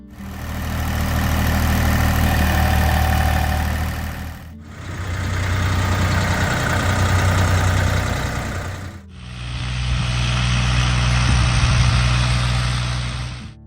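Early-1980s Ford 1710 compact tractor engine idling, a steady close diesel drone with low throbbing, heard in three back-to-back takes.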